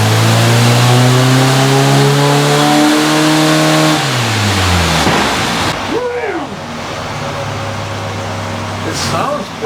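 A Volkswagen engine with a header and muffler revs up loudly with a throaty exhaust note, then drops back toward a rough idle; a voice speaks briefly near the end.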